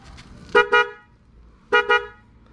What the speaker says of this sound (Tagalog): Pakinggan niya yung busina niya.